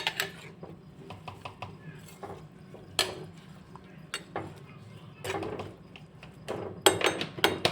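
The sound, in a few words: stirring vegetables with salt in a pot for pav bhaji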